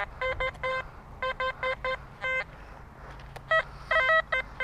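A metal detector sweeps over ground at a detecting outing, giving repeated bursts of short, sharp electronic beeps in irregular clusters, fairly loud and close, with no talking.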